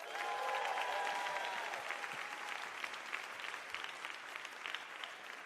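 Audience applause for a musician at a live storytelling show in New York City, a dense, steady wash of clapping from a sizable crowd that fades slightly after the opening seconds, with no talking.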